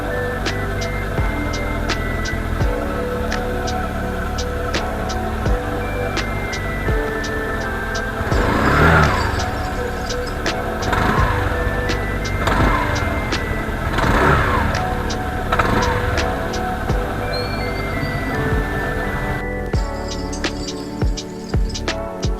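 A Honda Click 125i scooter on a test ride, its engine droning steadily with repeated rises in revs and road noise, loud and close for the whole stretch.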